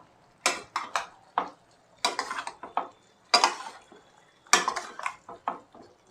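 Metal spoon scraping and knocking in a pan while spices are mixed into galgal pickle, in irregular bursts of gritty scrapes separated by short quiet gaps, close and clear.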